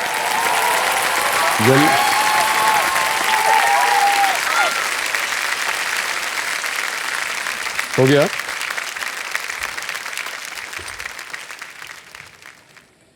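Studio audience applauding on the set of the Hindi quiz show Kaun Banega Crorepati, a steady, dense wash of clapping that runs throughout and slowly fades toward the end, with a host speaking over it at moments.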